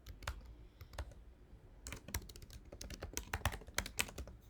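Someone types on a computer keyboard in a quick, uneven run of close, crisp key clicks, with short pauses and denser bursts toward the end, and no one talks.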